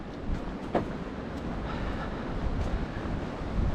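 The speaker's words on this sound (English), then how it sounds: "It's a bit windy, and I'm sure it will be much windier once I get on top of the ridge line" Steady wind roars across the microphone in a continuous low rush on an Appalachian Trail hike below a ridge line, with no voices, broken only by a few faint knocks.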